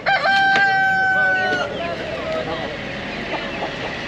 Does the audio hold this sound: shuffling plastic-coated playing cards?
no